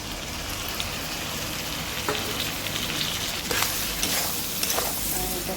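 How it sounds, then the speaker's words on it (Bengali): A spice paste thinned with a little water sizzles loudly in a pan for a Bengali bottle gourd and meat curry. The bubbling crackle is steady and close, with clinks and stirring scrapes breaking in now and then, and no talk. "এবার এটাতে সামান্য একটু জল দিয়ে এটাতে দিয়ে দেবো।"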